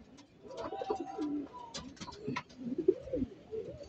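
Pigeons, including checkered ones, coo softly nearby in a few low, throaty, rolling calls against a quiet background.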